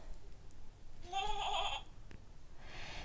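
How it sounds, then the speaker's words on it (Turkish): A sheep bleat from a children's noisy sound book plays once, a short wavering electronic baa in the middle, fairly faint against a quiet background. "Now, Susie Sheep has arrived"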